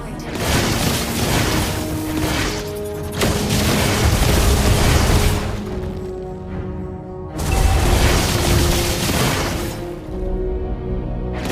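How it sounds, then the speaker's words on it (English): Mobile Legends match in which a turret is destroyed, producing loud, dense booming blasts in two long waves with game music tones layered underneath. "Our turret has been destroyed."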